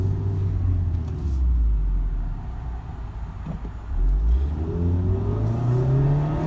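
A Mazda MX-5 Miata RF (Retractable Fastback) engine accelerating with the top down, a close, steady engine growl that climbs in pitch through repeated gear pulls with no talking over it.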